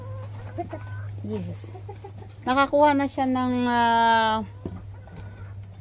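Chickens cluck and squawk close by as they are fed, with one long drawn-out crowing call in the middle over a steady low hum, while a person speaks briefly.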